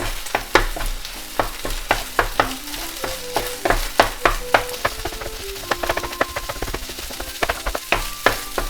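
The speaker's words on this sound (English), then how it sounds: "Right in here where the egg is not cooked, I'm gonna put in the rice. And then I'm gonna break in the rice." Rice and egg stir-fried for chicken fried rice, with a constant sizzle broken by repeated sharp clacks and scrapes of a utensil against the pan as clumps are broken up, close and lively.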